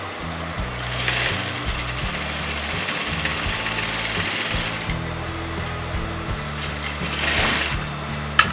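A sewing machine stitches the pieces of a front-opening kurti, its steady motor hum running continuously with small shifts in speed, close and fairly loud, with no talking.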